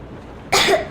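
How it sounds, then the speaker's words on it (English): A young girl coughs in Metro Exodus, one harsh, close cough in the second half after near silence, followed by the start of another. "I have this cough."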